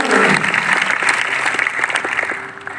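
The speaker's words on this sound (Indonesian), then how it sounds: "berikan tepuk tangan yang paling meriah bagi anak kita." A church congregation applauds loudly for a child, bright, dense clapping from many people that starts strong and gradually thins toward the end, with no talk over it.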